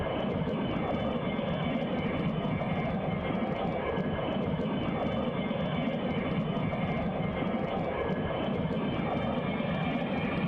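Steady, loud airplane engine drone from the Airplane Flight Simulator EVO game, holding a continuous even roar throughout with no talking.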